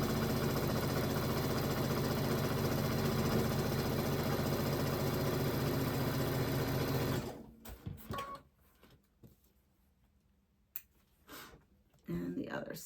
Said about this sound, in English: this is all real time sewing